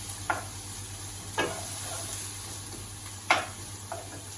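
Onions fry quietly in a pan with a soft, steady sizzle. A few sharp taps from a stirring utensil break through at irregular intervals.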